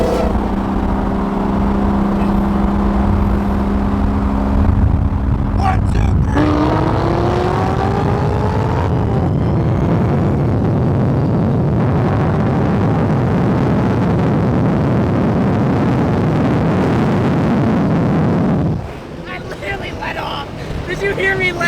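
A Corvette accelerates hard in a roll race from 50, its engine roaring loud and steady with rising gear tones before the throttle abruptly lets off near the end.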